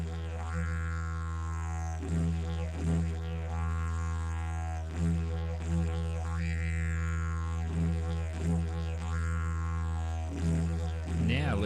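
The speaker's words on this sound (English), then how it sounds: "Add a low vocalization to add even more emphasis to the jaw drops." A low, sustained vocal drone hums continuously through a jaw drop exercise, its steady pitch rippling with the repeated mouth openings, clear and close with no other sound.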